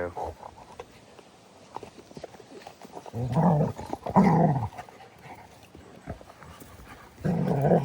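A puppy playing with another dog, with bursts of growling and scuffling noises that rise and fall close by, while a person talks over the play.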